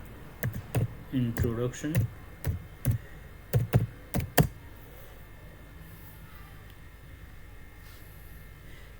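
Computer keyboard typing while Python code is written, with irregular bursts of close, crisp key clicks in the first half, then quieter background as someone talks throughout.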